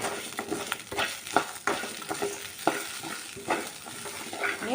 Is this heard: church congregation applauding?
no